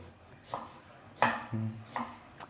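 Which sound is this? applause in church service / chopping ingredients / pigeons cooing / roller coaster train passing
chopping ingredients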